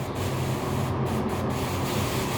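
An automotive paint spray gun at low pressure, about 18 PSI, hisses in a steady, continuous rush of air, close and fairly loud, with no voices.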